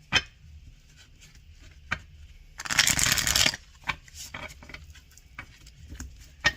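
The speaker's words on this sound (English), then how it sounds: "Alright, let me shuffle it one more time." Tarot cards being shuffled: a burst of riffling for about a second, surrounded by scattered light taps and clicks of cards being handled.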